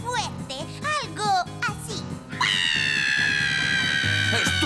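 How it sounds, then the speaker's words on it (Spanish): Girl in a Spanish-dubbed cartoon screaming very loudly, a long, shrill, sustained cry over music, following earlier excited vocal sounds. "Entonces me pongo a gritar muy fuerte algo..."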